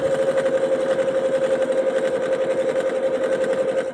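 A sewing machine stitches an X onto soup bowl cozies, giving a close, steady, continuous motor whir with a fast, even needle rhythm and no talking.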